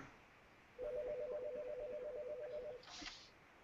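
A phone rings with an incoming call: a steady two-tone electronic warble repeats in quick pulses for about two seconds, fairly clear and alone, followed by a short brighter burst.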